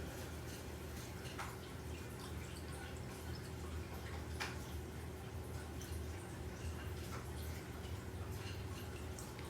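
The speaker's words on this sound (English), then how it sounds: "It also kind of made a little noise when the water poured on top of the egg." Water is poured beside an egg in a quiet, faint trickle and splash that runs steadily, with a few soft drips standing out along the way.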